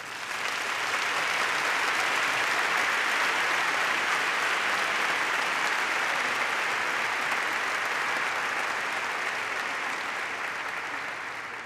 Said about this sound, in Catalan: demanem ara i aquí un fort aplaudiment